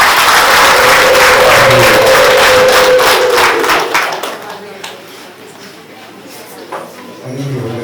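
An audience at a celebration gathering bursts into loud, dense clapping for about four seconds, then the applause thins out and fades to quieter crowd noise.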